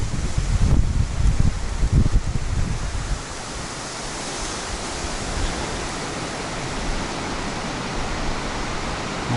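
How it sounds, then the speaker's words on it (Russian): Steady rushing of rain and wind in a pine forest beside a cabin, loud and broad, with a few heavier gusts or knocks early on before it settles into an even roar. "Ну и дождь, вот дождь уже капает."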